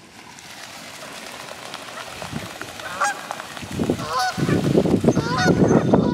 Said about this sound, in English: The geese are getting flappy